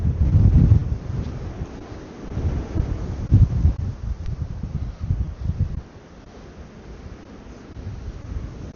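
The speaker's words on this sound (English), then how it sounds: "It's so windy, it's white capping." Strong gusty wind blows beside a lake churned into whitecaps at a campsite, buffeting the microphone in rumbling surges with no voices.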